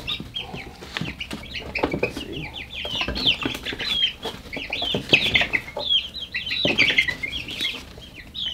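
A chicken clucks repeatedly at close range in irregular bursts, with some flapping and rustling. A person speaks briefly.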